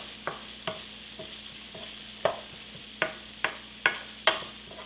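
Peanut sauce noodles with broccoli and smoked tofu stirred in a hot pan, a steady sizzle broken by a series of sharp scraping clacks of the utensil against the pan, close and without talk.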